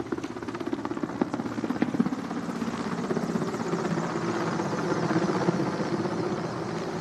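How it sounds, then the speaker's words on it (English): A military helicopter passes overhead during a ceremonial flypast, its steady rotor and engine drone holding at moderate loudness and swelling slightly as it nears, with no talk. "helicopter flying by"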